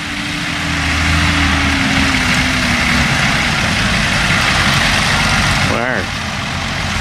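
A tractor engine rumbles loud and close as it pulls away at a tractor run, a steady heavy drone with a brief mechanical warble near the end while people talk over it.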